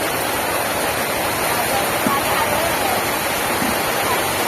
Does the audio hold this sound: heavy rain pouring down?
yes